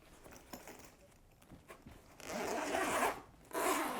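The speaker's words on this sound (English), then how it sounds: "There's two spots where it can zip open" A zipper on a cat backpack draws open in two long, rasping pulls near the end, following a stretch of quiet handling and light rustling.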